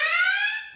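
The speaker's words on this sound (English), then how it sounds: "there's an alarm going off" A kitchen alarm beeps in one sustained, loud electronic tone with stacked bright harmonics, steady and then tapering slightly near the end, with no talking.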